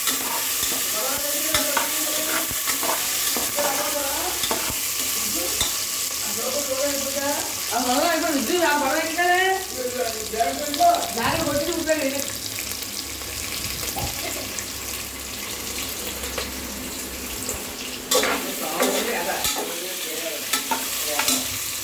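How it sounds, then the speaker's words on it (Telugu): Peas are stirred into a frying vegetable mixture in a pan, a continuous sizzle with scraping spoon strokes throughout, and a voice talks intermittently over the cooking. "బఠానీ కూడా వేసుకుని అన్నీ వేసుకుని బాగా కలుపుకోండి ఫ్రెండ్స్."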